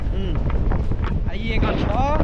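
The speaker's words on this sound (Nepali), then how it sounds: "ल हावा खाँदै चिसो हावा खाँदै" Cold wind buffets the microphone during a journey through Gulmi, a constant low rumbling roar with people talking over it.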